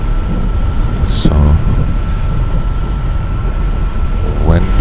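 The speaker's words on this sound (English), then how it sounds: "So we're braking the train again with a choke." A BR95 steam locomotive braking in a train simulator video game, a loud, steady low rumble and hiss with brief higher whines and hissing bursts, while a voice speaks over it at times.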